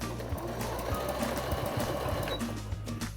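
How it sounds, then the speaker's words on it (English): A sewing machine runs steadily, top stitching a single line around the edge of a backpack flap, its motor hum and needle clatter close and continuous with no talk. "I'm gonna top stitch just one line of stitching all around the edge"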